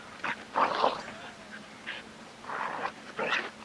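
An Australian cattle dog on a hike gives a few short whimpers and yips in uneven bursts, close by and clear, with no speech.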